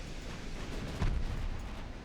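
A single heavy naval gun salvo booms out in the warship battle game Ultimate Admiral Dreadnoughts, one deep blast rising over a steady rumbling battle ambience before fading back.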